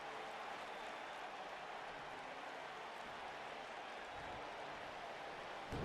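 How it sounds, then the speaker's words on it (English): A wrestling show crowd claps along in dense, steady applause, a broad wash of hand-claps from an arena audience that holds at an even level throughout with no voices standing out. "He's clapping along."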